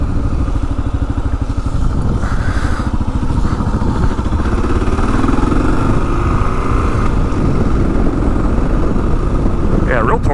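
A 2022 Kawasaki KLR 650 dual sport motorcycle thrums steadily under way, a loud, close single-cylinder engine note with wind rumble, and a voice speaks over it at times.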